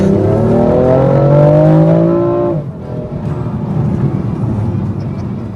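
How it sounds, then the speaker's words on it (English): A BMW M4 Competition's turbocharged straight-six revs hard close by, a loud rising engine note that climbs through the gears, then drops off into a rough, lower cruising drone. "Sound of the straight six."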